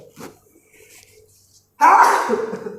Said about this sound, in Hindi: देखो फिर से छींक आ रही है।